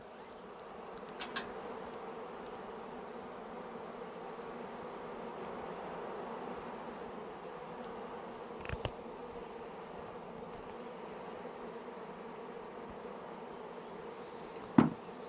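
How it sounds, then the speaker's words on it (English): A swarm of bees clustered during a swarm catch, carrying small hive beetles, hums in a steady, continuous drone throughout, with a few faint taps and knocks standing out briefly. "So now I've got bees clustering here."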